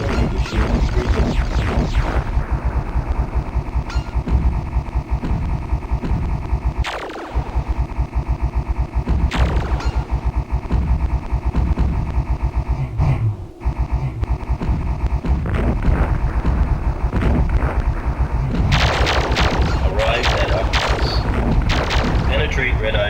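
Explosive gunfire and heavy impacts from an enemy attack in the 3DO space shooter Star Blade, loud and continuous with dense booming blasts, a brief gap near the middle and a burst of sharper crashes toward the end.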